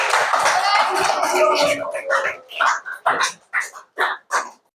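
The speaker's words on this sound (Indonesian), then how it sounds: "beri tepuk tangan untuk kelompok yang dijelaskan." Classroom group claps for a presenting team, with dense overlapping voices at first, then a few separate sharp claps tapering off near the end.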